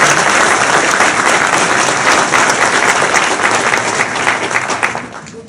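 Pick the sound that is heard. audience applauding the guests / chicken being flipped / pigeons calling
audience applauding the guests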